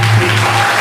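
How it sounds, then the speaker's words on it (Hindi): A brief burst of dense crowd clapping from an audience at a Ram Katha religious gathering, loud and continuous with a low hum beneath. "जोरदार तालियां इनके लिए।"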